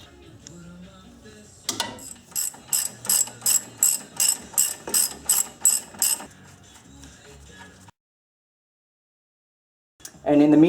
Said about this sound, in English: Then once these bolts are loose enough, you can use a ratchet.